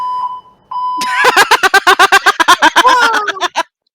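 A building fire alarm goes off loudly and close, a steady tone breaking into a rapid run of harsh repeated beeps, with no one talking.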